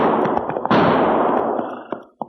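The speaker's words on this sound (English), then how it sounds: "Not only did I hear those gunshots, Cherokee, but now I can see where they came" Gunfire sound effect in a 1949 radio western drama: a sharp loud burst at the start and another just under a second in, each ringing into a long decaying wash, then a few faint clicks near the end.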